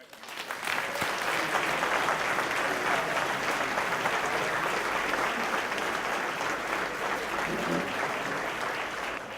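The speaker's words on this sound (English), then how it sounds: "Let's give a big round of applause for John Stossel." Sustained audience applause for John Stossel at The Villages in Florida, a dense, steady wash of many hands clapping that rises quickly and holds loud for the whole stretch.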